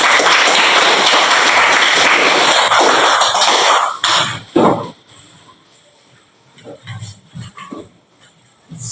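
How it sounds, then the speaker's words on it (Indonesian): A church congregation at a Catholic Eucharist service claps together in loud, sustained applause for about four seconds, then it breaks off into scattered claps, shuffling and faint voices. "Tepuk tangan dulu untuk Tuhan"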